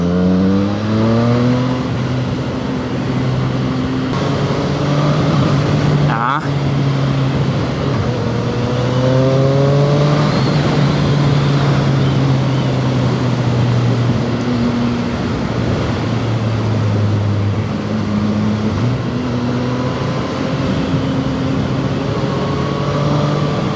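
Zontes 703R motorcycle engine droning steadily while riding twisty roads, loud and close with rising and falling revs across gear changes, alone without talk.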